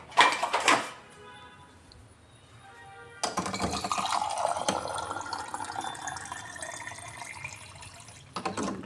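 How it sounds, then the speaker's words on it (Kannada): A glass of water is poured into chapati flour for dough, a steady splashing pour that begins after a quiet pause, runs for about five seconds, then stops abruptly. "ಸೊ ನಾನಿವಾಗ 1 ಗ್ಲಾಸ್ ವಾಟರ್ ಹಾಕಿದ್ದೀನಿ."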